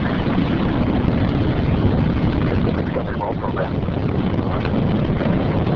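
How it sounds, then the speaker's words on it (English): Space Shuttle Discovery's boosters ignite at liftoff with a dense, continuous roar that stays loud and steady throughout, heard with no voices over it. "booster ignition, and liftoff of the Space Shuttle Discovery"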